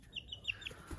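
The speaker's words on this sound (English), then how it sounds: "Ranger's got him a chicken." A chicken gives a few quick, high clucks in a short irregular series, close but fairly faint, over a quiet background with a soft low thump at the end.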